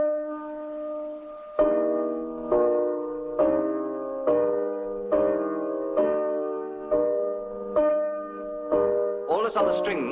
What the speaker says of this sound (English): Then I thought all the way through we might have a church bell coming in.